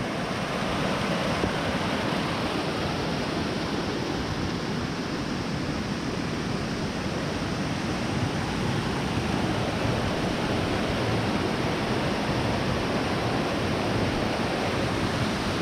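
Floodwater rushes loudly and steadily across a trail crossing on the Colorado Trail after a heavy rainstorm, a dense continuous roar that fills the whole span with no break and no voices.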